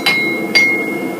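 A hammer strikes hot metal on an anvil twice, each blow a sharp, bright ringing clang that lingers with a clear metallic tone, heard close and loud.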